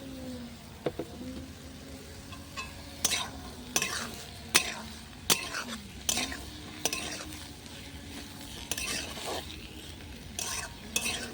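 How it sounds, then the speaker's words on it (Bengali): Pointed gourd and onion fry in a pan over a clay stove, a steady sizzle punctuated by a regular series of sharp spatula scrapes and knocks against the pan, close and fairly loud, with no talking. "পেঁয়াজের সাথে কিন্তু পটলটাও দিয়ে দেবো পটলটাও ভাজা ভাজা করে নেবো"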